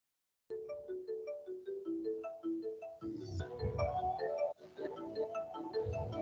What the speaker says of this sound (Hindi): please switch off the mic जिसका मोबाइल बज रहा है